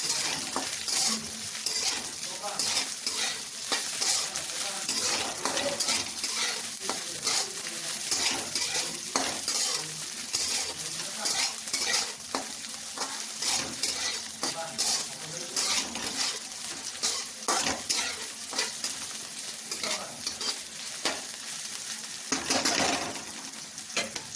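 Bitter gourd stir-fried in a pan over high heat gives a steady, busy sizzle with constant scraping and stirring, close and fairly loud, running the whole time without talk.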